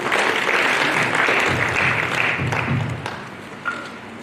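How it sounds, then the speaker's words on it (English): Audience members at a World Town Planning Day event in Kisumu County clap for the planner, a loud, dense burst that thins and fades over the final second, with a faint voice surfacing as it dies away. "Please let's clap for our plan."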